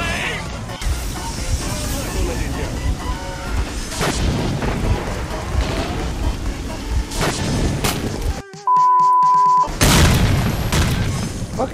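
Grenade explosions in the S.T.A.L.K.E.R. video game, several deep rumbling booms spread across a noisy firefight, loud and close, with voices shouting between them.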